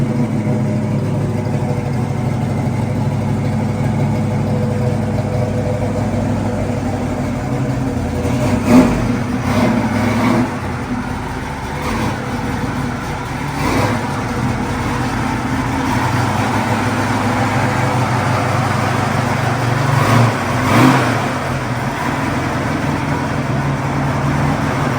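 A 1969 Camaro SS V8 idles with a deep, loud rumble close by, punctuated by a few sharp revs that swell and fall back to the steady idle.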